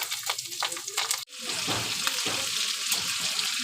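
Crushed garlic and green chillies drop into hot oil in a pan and sizzle loudly, a sudden burst of steady frying that follows a few quieter clinks, heard up close.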